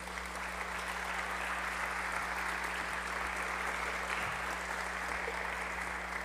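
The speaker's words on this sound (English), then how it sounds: "We can have a round of applause for the candidates." An audience at a candidate forum for at-large and ward councillor races applauds steadily, a dense, even clapping that carries on for several seconds with a low electrical hum underneath.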